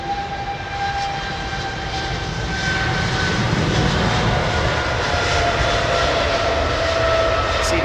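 Aircraft jet engine at London Heathrow spooling up, a steady broadband roar with faint whining tones that swells gradually louder over several seconds, heard alone without talk.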